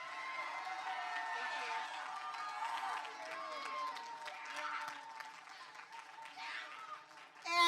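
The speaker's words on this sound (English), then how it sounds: "so can we give him a round of applause?" At a school musical production, a crowd applauds and cheers for the set builder, a steady wash of clapping with voices mixed in, fairly distant and holding level before a louder burst at the end.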